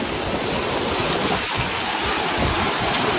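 Rainwater pours across the flooded Bhavnagar–Gariyadhar highway after heavy rain, a loud, continuous broadband rush of flowing water close by with no voices.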